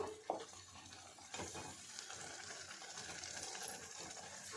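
Chitranna mixture simmering in a pot, made without onion or garlic, giving a soft, continuous bubbling and sizzling with a couple of light clinks near the start.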